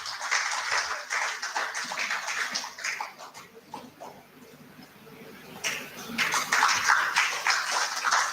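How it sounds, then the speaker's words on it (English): Audience applause at an international conference, a sustained wash of many hands clapping in a large hall, dipping briefly in the middle before swelling again, with a faint voice underneath. "Can we have a big round of applause for both of them?"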